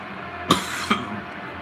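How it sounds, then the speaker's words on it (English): Two sharp coughs, about half a second apart, stand out near the microphone against a quiet room background with no talking. "This cough just came out of nowhere."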